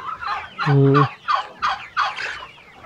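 Young chickens on a farm, hens not yet laying, call out in a short series of loud, close clucks and gobble-like squawks, one drawn-out tonal cry followed by several quick choppy calls.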